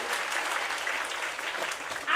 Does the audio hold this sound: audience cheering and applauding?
yes